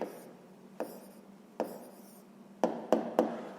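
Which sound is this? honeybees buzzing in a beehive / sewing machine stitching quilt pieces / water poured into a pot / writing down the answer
writing down the answer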